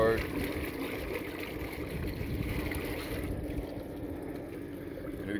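A 2021 Suzuki 9.9hp EFI four-stroke outboard motor runs in gear, giving a steady, continuous drone close by, with water wash and some wind noise around it.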